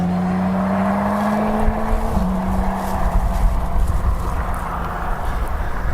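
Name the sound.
loud motorcycle passing by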